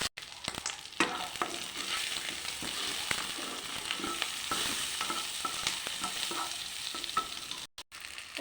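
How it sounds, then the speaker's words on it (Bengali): Diced onion and capsicum fry in a wok with a loud, continuous sizzle, broken by repeated scraping and stirring clatters of a utensil, and a brief drop-out near the end. "এবার ওই কড়াইতেই ডুমো পেঁয়াজ আর ক্যাপসিকাম দিয়ে দিচ্ছি।"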